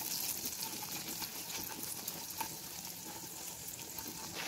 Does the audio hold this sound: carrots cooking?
yes